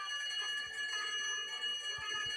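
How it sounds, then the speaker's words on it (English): An electric fire alarm bell rings continuously inside a firehouse, a loud steady metallic clangor with a few low thumps underneath. "a loud bell rings in the firehouse."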